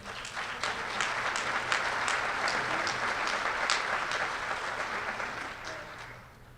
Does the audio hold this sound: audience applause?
yes